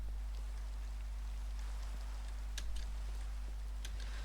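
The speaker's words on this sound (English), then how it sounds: "And it's raining." Rain falls in a modded Minecraft world, a steady soft hiss with scattered light drip ticks, constant and faint, with a low hum running underneath and no talking.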